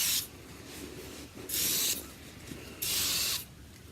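Silicone spray hissing onto chalk-painted furniture being distressed, three separate bursts of about half a second each, close and fairly loud, with quiet gaps between them.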